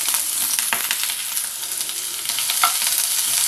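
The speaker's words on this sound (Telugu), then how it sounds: "ఇప్పుడు దీనిలో ఉల్లిపాయ ముక్కలు పచ్చిమిర్చి ముక్కలు వేసుకోవాలి" Chopped onion and green chilli pieces frying in hot oil with cumin, mustard seeds and curry leaves, a bright crackling sizzle with stirring scrapes, close and continuous.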